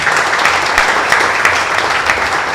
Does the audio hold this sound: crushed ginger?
no